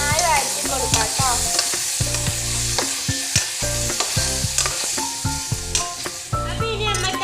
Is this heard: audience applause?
no